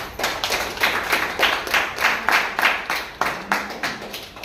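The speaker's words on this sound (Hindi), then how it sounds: "तालियां बजाओ एक बार।" Audience in a hall claps together in a steady, rhythmic beat, repeated sharp bursts of many hands at an even pace, fairly close and filling the room, with no talk over it.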